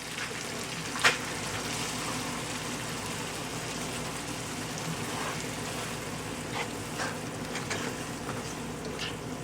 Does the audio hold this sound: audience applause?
no